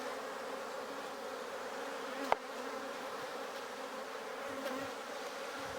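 Honey bees buzz steadily at a feral hive, a constant insect drone throughout with one sharp knock partway through.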